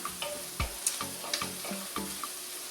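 Turkey curry with apples and onion frying in a pan, soft sizzling with light clinks and stirring taps at an irregular rhythm, close by and without talk.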